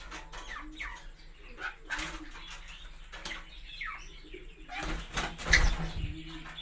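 Young pet guinea fowl and partridge chicks, frightened, give soft chirps and wing flutters close by, with a louder burst of flapping near the end.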